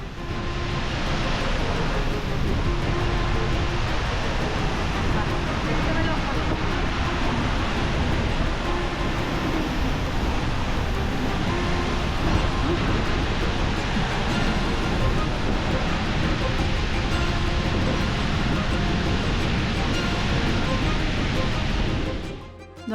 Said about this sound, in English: The waterfall drops 60 meters or 197 feet and is part of a river